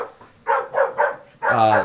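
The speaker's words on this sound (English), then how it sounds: "the dogs that bark in the outside" Dogs bark outdoors, several distinct barks in quick succession at moderate distance, ending in a longer, louder bark.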